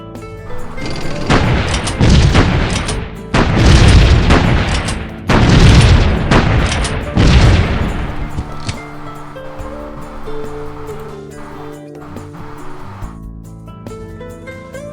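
A Korean artillery unit fires a lethal bombardment in a strategy video game: a series of heavy, booming blasts in quick succession over the first half, fading into steady background game music.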